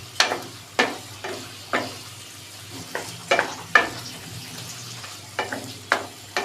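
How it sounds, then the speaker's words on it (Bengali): Pre-fried potatoes being tossed and stir-fried in oily spice paste for an egg and red lentil dish, with about a dozen sharp spatula knocks and scrapes against the pan over a soft background sizzle. "এখন দিয়ে দেবো ভেজে রাখা আলু। আলুগুলো দিয়ে আবারও কিছুক্ষণ কষিয়ে নিব।"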